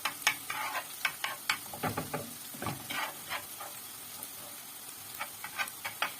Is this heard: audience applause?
no